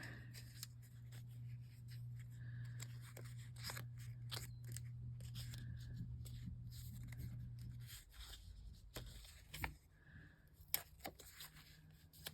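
Scissors snip through paper in a run of quick, close cuts, with soft paper rustling between snips and a low hum that stops partway through, no voices.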